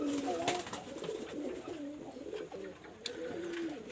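Master pair pigeons with red necks coo in low, throaty, overlapping calls. They sound close and keep going for the whole stretch, with a brief sharp knock near the end.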